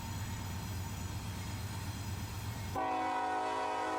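An eastbound train near Austell, Georgia, heading into Atlanta, rumbles past with a low, steady roar, then a loud sustained horn blast cuts in with bright harmonic tones for the final second.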